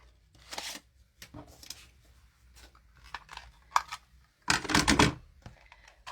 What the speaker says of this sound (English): So I'm going to cut a 2-inch circle out of basic white, and then I'm going to cut a 2 1/4 out of basic black.